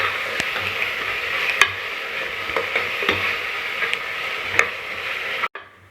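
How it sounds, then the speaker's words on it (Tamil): Ginger garlic paste sautéing in a pan over a low gas flame, a steady close sizzle with regular light scraping and stirring clicks of a spoon against the pan, cutting off abruptly at the end. "இஞ்சி பூண்டு பேஸ்ட்டு நல்லா பச்சை வாடை போகிற வரைக்கும் வதக்கிக்கிட்டே இருங்க."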